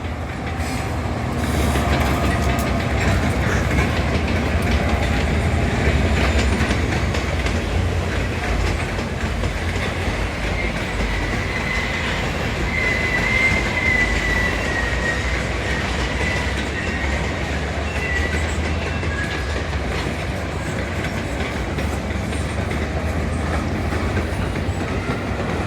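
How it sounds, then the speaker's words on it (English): Trains rumbling past at a three-way meet of an Amtrak ballast train, a New Jersey Transit commuter train and a SEPTA multiple unit set, a continuous heavy roll with rhythmic wheel clatter and a brief squeal midway, no talking. "a three-way meet involving an Amtrak ballast train, a New Jersey Transit commuter train, and a SEPTA multiple unit set"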